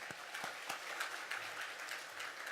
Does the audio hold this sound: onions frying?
no